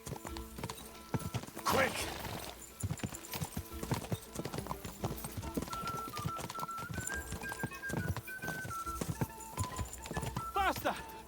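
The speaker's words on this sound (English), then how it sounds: "This horse is too fast." Horse hooves gallop in a video game, a fast steady clip-clop rhythm close and continuous, with a brief whinny, under excited shouting from players.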